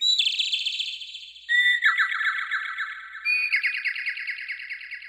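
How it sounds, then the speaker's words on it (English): A synthesized General MIDI bird tweet patch plays three bursts of rapid, trilling chirps. Each is bright and clean on a silent background and starts at a slightly different pitch. "there's this bird tweet sound in, like, the general MIDI sound"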